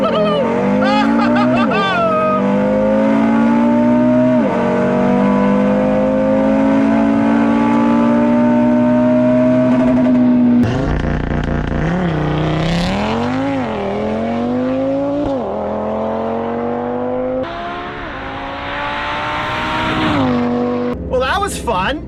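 A tuned Audi RS3 running a Unitronic TTE700 turbo on 93 octane launches for a quarter-mile pass, its engine roaring loud and close as revs climb through several gear changes, with tire noise and an excited voice over it.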